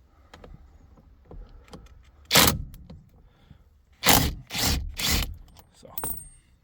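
A ratchet wrench with a 24 mm socket loosens the steering wheel bolt on a 2016 Ford C-Max, giving a few separate bursts of loud clicking ratchet noise, close up, with quiet handling sounds between.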